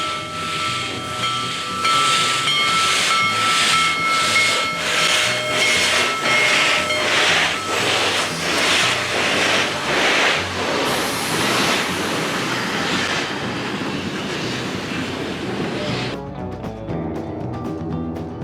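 Union Pacific 4014 steam locomotive chuffs past loudly with a steady rhythmic hissing beat, rumbling wheels underneath, before the sound drops away near the end.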